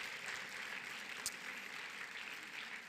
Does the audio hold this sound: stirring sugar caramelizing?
no